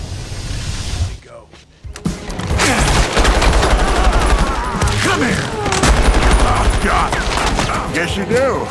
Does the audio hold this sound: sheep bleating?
no